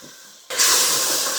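Canned diced tomatoes hit a hot pan and set off a sudden loud hiss, a sizzling burst that jumps up from near quiet and keeps going steadily up close.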